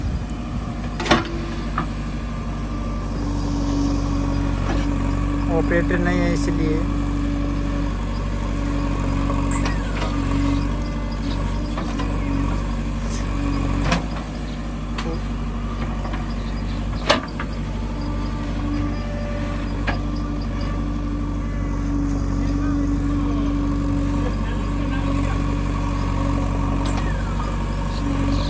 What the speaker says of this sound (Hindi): ये हमारा ट्रैक्टर 4x4